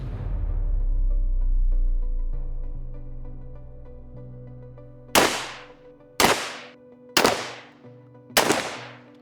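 Four loud shots from a Gen-12 shotgun with a suppressed 5-inch barrel firing buckshot, each a sharp blast with a short decaying tail, spaced about a second apart after a low rumbling lead-in.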